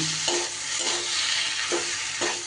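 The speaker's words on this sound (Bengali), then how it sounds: "সব কিছু খুব সুন্দর করে একটু কড়াইতে নেড়ে নেড়ে ভাজা ভাজা করে নিতে হবে" A spatula scrapes and stirs teasel gourd with a little salt in a hot wok in several rhythmic strokes over a constant sizzle.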